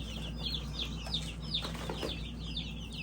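Baby chicks peep in rapid, repeated high chirps with a few soft clucks, close by and fairly quiet over a steady low hum, with no talking.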